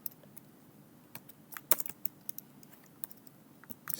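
Quiet, irregular clicks of fingers typing on a computer keyboard, clustered bursts of keystrokes with short pauses, close and faint, with no voices.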